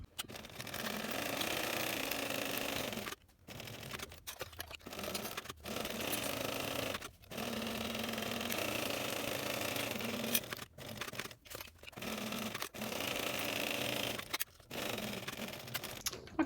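Sewing machine stitching the side and top seams of a backpack, a quiet whirring run broken by frequent short pauses and restarts, with faint handling noises between bursts.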